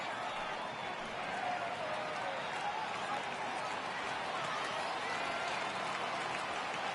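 Dense, steady crowd noise rises from a virtual ballpark crowd in MLB The Show 18 as fans stand for a full count, a broad sustained roar under light play-by-play commentary.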